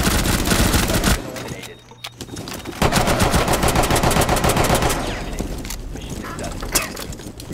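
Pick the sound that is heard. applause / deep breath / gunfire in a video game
gunfire in a video game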